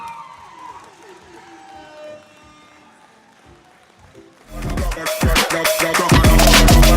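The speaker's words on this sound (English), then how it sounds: "please do not stop this applause for number 91, Monster" Roller derby crowd applauding player number 91 at a game, quiet chatter at first, then loud, dense clapping and cheering bursting in and building to the end.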